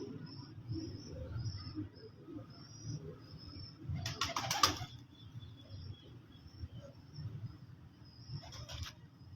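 Salara pigeons on a rooftop give soft, low cooing over a steady murmur, with two short bursts of flapping wing rustle and faint high chirps in the background.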